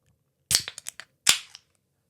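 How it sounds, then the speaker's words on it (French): Opening a drink can of white peach seltzer: a sharp close pop with quick crackling fizz bursts, then a second pop and hiss that fades out, nothing else around it. "J'ai une canette à ouvrir, là. Je peux faire le son."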